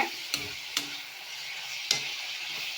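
Egg curry cooking in palm oil, a soft steady frying sizzle with a few sharp clicks of stirring or utensil contact spaced across the short stretch.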